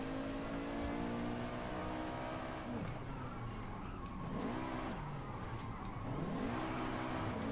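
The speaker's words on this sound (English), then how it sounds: "Oh, that was a good drift." Engine of a car drifting in Forza Horizon 5 drones steadily near and loud, with pitch dips and swoops as it slides and revs through the slide, no voices over it.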